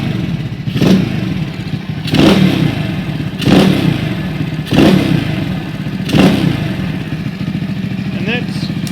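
A supercharged postie motorbike idles while its throttle is blipped five times at fairly regular intervals, each a short, sharp rise in engine roar before settling back.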